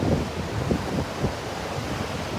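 Steady outdoor wind at sunset rushes and buffets against the microphone in low, continuous gusts, with no one talking.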